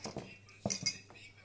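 Cutlery clinks against dishes in a few quick, light taps, faint and close, with brief quiet gaps between them.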